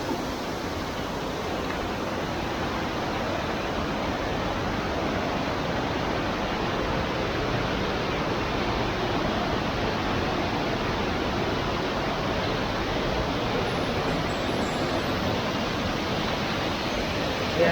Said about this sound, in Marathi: आता आपण धबधब्याच्या खालच्या बाजूला चाललोय सुंदर धबधबा आहे मस्त